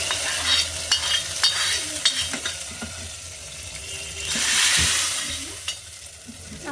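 Chopped garlic and dried red chillies frying in hot oil for a tadka, giving a steady close sizzle broken by light clinks and scrapes of stirring, with a louder hiss surging midway and no talking.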